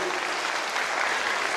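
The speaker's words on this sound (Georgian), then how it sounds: "კიდევ ერთხელ აპლოდისმენტები თქვენ" Steady, dense applause from a festival audience, a continuous wash of many hands clapping that holds at an even level throughout.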